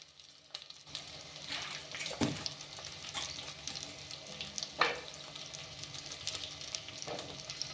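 Carrots, beans and brinjal tumble into a hot pan for Tirunelveli sodhi and start sizzling, with a few sharp clatters of stirring over a steady crackle of frying.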